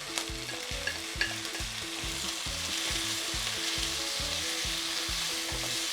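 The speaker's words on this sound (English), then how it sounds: "My onions are cooked. This is the right spot for me. I don't want them to cook beyond this. So now I'm going to put in my tomatoes." Tomatoes hitting softened cooked onions in a hot pan for Kenyan githeri, a steady close sizzle with a regular scraping stir beating through it, no talking.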